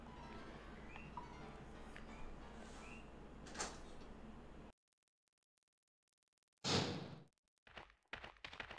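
A door in the Resident Evil Director's Cut game swings open with a sharp whoosh and thud. Ambient room noise drops to near silence, then a loud creaking swing and clunk follow.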